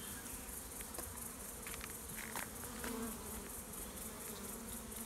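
Honeybees buzz around an open hive while two colonies are being combined, a constant close drone of many wings with individual bees flitting past the listener.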